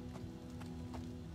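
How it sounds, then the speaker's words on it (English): A horse gallops in the video game Oblivion, its hooves making a quiet, regular clip-clop beat of a few evenly spaced strikes over a low, steady hum. "Let's just get on our fast horse."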